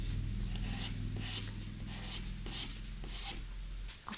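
Pencil drawing on paper for a chess illustration, a soft, close scratching and rubbing in a steady series of strokes, quiet and alone.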